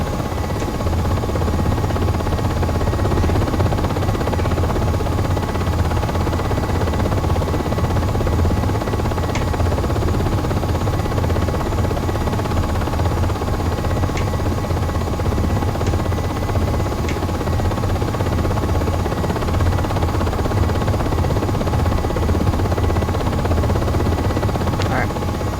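UH-60M Black Hawk helicopter in the Aerofly FS4 flight simulator taxiing on the ground, a steady loud rotor and turbine drone with low throbbing that continues unbroken throughout, with faint brief clicks and a voice talking over it at times.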